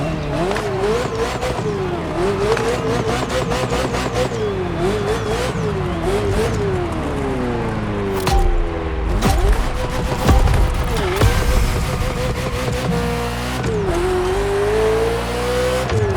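A Ferrari F40 supercar in a racing video game revs hard and loud, its engine note climbing and dropping through repeated shifts, with tire squeal and a whooshing pass midway.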